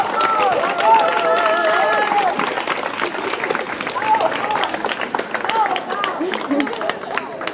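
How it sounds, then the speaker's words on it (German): Applause from a rally crowd, dense and sustained throughout, with cheering voices and chatter mixed in at steady loudness. "Ein großer Applaus für Laura, bitte."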